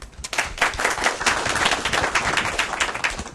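An audience at a university engineering lecture applauds to welcome the lecturer, a dense burst of many hands clapping that carries on steadily for a few seconds in a hall.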